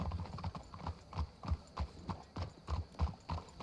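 Horse hooves clip-clopping in a Western video game, a steady quick rhythm of soft thuds at moderate distance, fairly faint, with no talk over them.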